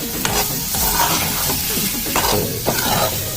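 Peas and mushrooms sizzling steadily in a hot pan while a utensil stirs and scrapes through them, close up, with no talking.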